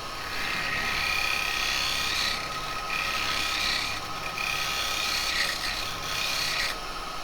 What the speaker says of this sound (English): we can come around, and we can get rid of the tool marks.